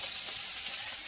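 Whole cumin seeds sizzle in hot oil in a freshly washed kadai, a steady close hiss with no pauses and no talking.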